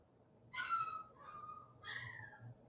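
A puppy whines in two or three high, wavering cries over a faint low hum, fairly quiet and close.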